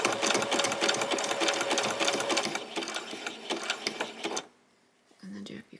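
A sewing machine stitches swimsuit fabric in a fast, rattling run of needle strokes, slowing in short bursts before stopping, followed by a brief quiet and then a softer mechanical sound.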